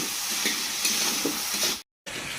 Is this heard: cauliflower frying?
yes